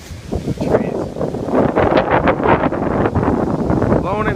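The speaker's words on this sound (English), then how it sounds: "it's windy out, really windy." Strong gusts buffet the microphone outdoors, a continuous loud rumbling roar with flapping bursts as material whips in the breeze. A voice talks faintly beneath it.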